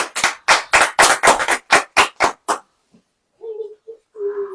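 Congregation clapping at a church service, about a dozen distinct loud rhythmic claps in quick succession, then silence with a short hum of voice.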